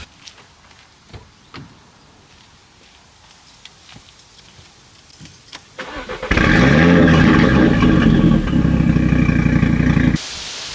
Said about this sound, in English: we play the sound of this 5-pot from this exhaust right now